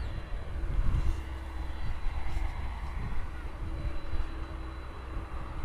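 Atlas Air Boeing 767 jet at Miami Airport, a rumbling engine roar with low-frequency pulses and a steady hum, moderately loud and ongoing across the whole stretch.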